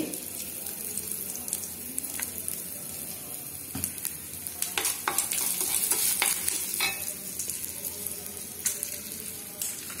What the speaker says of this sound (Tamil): ஒரு பல் பூண்டு, இஞ்சி எல்லாம் போட்டு நம்ம வதக்கிக்கலாம்